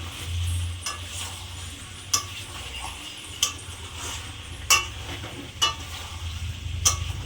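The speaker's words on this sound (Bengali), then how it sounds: "এবার চিকেনটাকে ভালো করে কষিয়ে নেব।" Chicken with pre-fried potatoes being stir-fried in a pan for a whole-spice chicken dish, with a constant low sizzle, a steady hum, and spaced sharp scrapes and clinks of a spatula against the metal.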